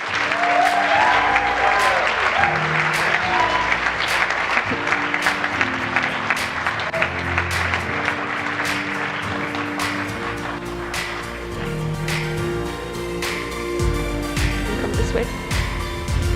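An audience applauds award winners at a startup competition grand final, with steady, dense clapping sustained throughout, backed by music and a faint murmur of crowd voices.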